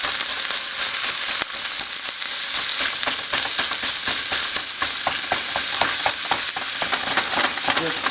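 Crumbled meat fries in a pan with a loud, continuous sizzle, punctuated by repeated scraping and stirring clicks, with no talking.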